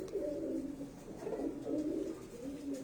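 Pigeons around two years old coo repeatedly in a loft, a steady rolling series of soft throaty calls close by with no talk.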